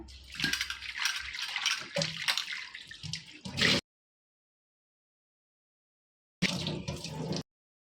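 Water runs and splashes unevenly for a few seconds as vegetables are washed, cuts to silence, then resumes briefly before stopping.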